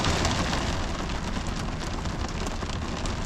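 Steady rain drums on a truck at night, a dense, continuous patter of drops on the roof that stays loud and even throughout with no voices.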